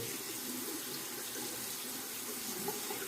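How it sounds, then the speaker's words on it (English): A razor rinsed under a running tap: a steady, close, continuous rush of water splashing into a sink, loud and even throughout, with no voices. "I'm going to rinse the razor here."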